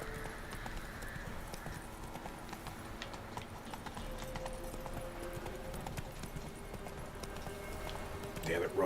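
The horse Roach in Witcher 3 gives steady clip-clop hoofbeats throughout, fairly faint and overlaid with game ambience and occasional tones.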